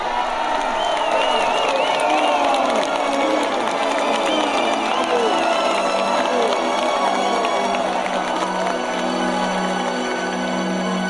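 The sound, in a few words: crowd of people seeking help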